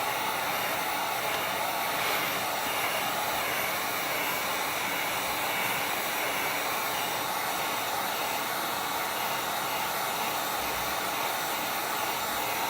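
A heat tool blows hot air steadily over wood during wood burning, making a loud, unbroken whooshing roar that holds evenly for the whole stretch without pauses or voices.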